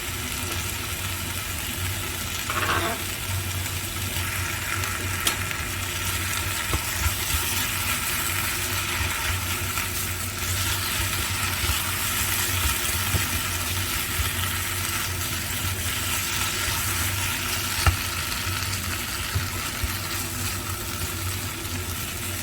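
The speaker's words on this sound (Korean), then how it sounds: "한 이 정도로 야채를 볶아준다 느낌으로" Vegetables and shrimp stir-frying in a pan for jjambbong, a continuous broad sizzle and hiss with low hum underneath, steady and fairly loud, with a brief clatter early on.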